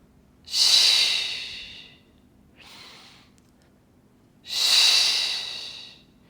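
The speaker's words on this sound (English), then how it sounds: "Deep breath in and exhale, open." Slow, deep breaths during a Pilates mat exercise for legs and core: two long, airy exhales stand out clearly, with a softer, shorter breath between them, close to the microphone in a quiet room.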